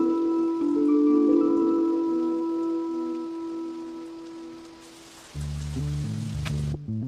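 Steady rain falls in an anime night scene, a continuous soft hiss under a sustained musical drone that shifts into a different musical passage near the end, with no talking.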